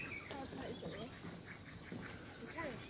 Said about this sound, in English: Oh, the birds are everywhere.